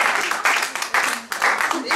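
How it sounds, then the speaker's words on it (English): A live group at a yoga fitness session breaks into applause, dense overlapping clapping swelling in waves of bursts with brief dips between them, loud and close. "Give a clap"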